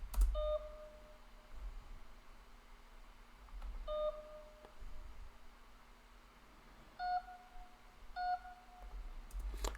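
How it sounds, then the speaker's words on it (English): Short electronic beep tones in a music beat's melody, sounded as a few separated pitched blips, pairs of beeps at the start and end, alone over a faint low hum. "I added this little just beep noise."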